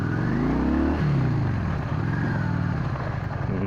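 A 1994 Honda Shadow VLX 600 motorcycle engine revs up loud and close, pitch rising then dropping as the throttle eases, settling into a steady rumbling drone on a rough road.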